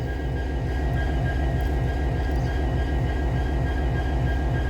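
Freight train locomotives roll past close by, a steady heavy rumble with rhythmic rail clatter lasting throughout, loud and unbroken, with no voices.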